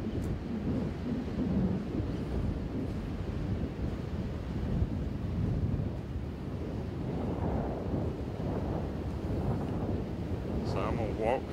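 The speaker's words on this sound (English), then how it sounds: "It is really windy out here." Constant heavy wind buffeting the microphone on Folly Beach, South Carolina, a dense low rumble that roars steadily throughout with no pauses.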